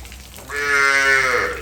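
A Nili-Ravi buffalo calf lows once, a drawn-out, rising then falling call that starts partway through and runs to the end, close and loud over faint background hiss.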